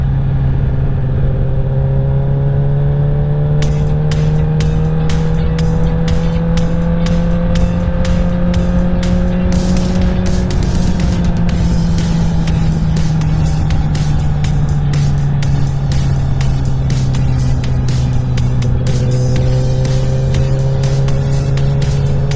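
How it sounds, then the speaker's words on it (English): A Honda CBR1000RR sport motorcycle in first gear runs with a loud, droning exhaust whose pitch rises and falls gently as it holds low-gear speed, punctuated by repeated sharp ticking clicks throughout. "My exhaust is pretty dang loud in first gear."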